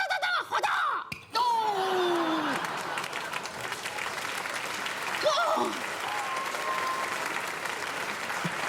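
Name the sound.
audience clapping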